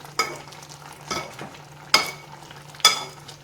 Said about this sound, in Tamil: வேகும்போதே கொஞ்சம் மசிச்சு விட்டுக்கலாம்.